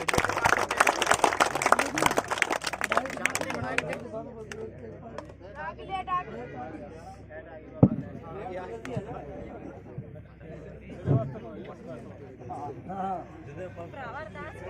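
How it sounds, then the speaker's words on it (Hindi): An audience at a cricket tournament prize-giving ceremony applauds to welcome a speaker to the stage, a dense burst of clapping for about four seconds that fades as a voice begins talking over a murmuring crowd. "जोरदार तालियों के साथ स्वागत"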